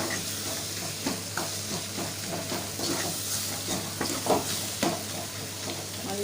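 Onion and tomato frying in oil in a pan, a steady close sizzle with intermittent scraping and stirring clatter throughout.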